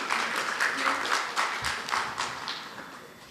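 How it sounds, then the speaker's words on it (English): Continued applause from a legal conclave audience, a moderate spread of clapping hands with uneven rhythm, gradually thinning, with voices faintly mixed in. "Kindly keep the applause going."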